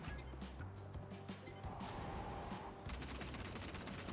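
Turret gunfire in the Agent Intercept video game, repeated rapid bursts and cracking shots over a busy game soundscape, with no talking.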